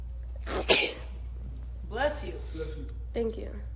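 A single sharp, close sneeze followed by quieter voices talking in a room.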